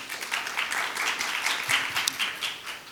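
A conference audience applauds to welcome speakers onto the stage, a dense, even wash of clapping from many hands throughout.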